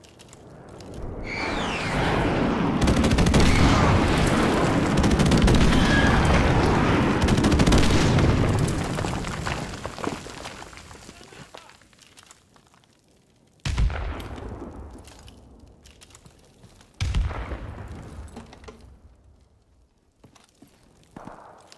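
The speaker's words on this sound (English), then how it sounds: "Friendly airstrike on the way." An airstrike in Call of Duty: Modern Warfare Remastered: a long, rumbling barrage of heavy explosions swells and roars for several seconds, then fades, followed by two more sharp, booming impacts with decaying echoes.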